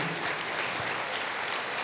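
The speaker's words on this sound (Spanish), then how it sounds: "Dale un fuerte aplauso al Señor" Congregation in a church clapping together for the Lord, a dense, steady wash of applause held at even loudness throughout, with no voices rising above it.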